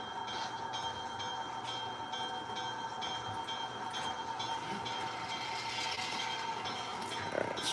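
A model train runs on a home layout with a continuous rolling rumble and faint metallic whine, steady and moderately quiet throughout, without any voices.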